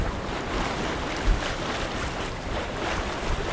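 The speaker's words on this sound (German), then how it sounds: "So, heute ist endlich mal Wind. Wir können segeln, das gibt's gar nicht." A sailboat heads out of the bay of Camariñas on the Atlantic coast in fresh wind and a low leftover swell, giving a steady, close, broadband rush of wind and water with a brief louder swell midway.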